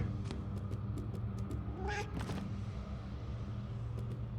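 Cat meowing in the video game Murdered: Soul Suspect, a brief mew rising out of a dense, rumbling ambient game background with faint clicks.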